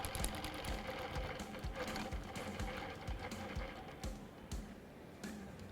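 Sewing machine stitching a quilt, alternating runs of dragged stitches with lock stitches, a steady close mechanical chatter that keeps going throughout with brief pauses and changes in pace.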